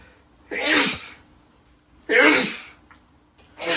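Three sharp sneezes from one person, spaced about a second and a half apart, each a loud close burst with a quick breathy onset, against a quiet room background.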